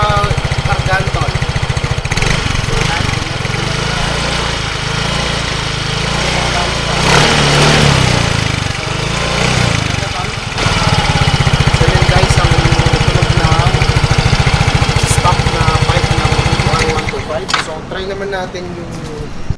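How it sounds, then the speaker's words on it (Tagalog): A Yamaha Mio scooter with its stock exhaust pipe runs loud and close for the whole stretch, the engine note rising and holding as it is revved, with someone talking over it at times. "yan yung tunog ng stock na Mio pipe"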